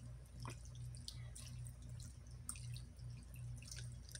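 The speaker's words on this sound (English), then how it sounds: "then we add in water as we go on" Water drips and trickles into a Maruchan lime chili shrimp ramen noodle cup, quiet and close, with irregular small splashes over a low steady hum.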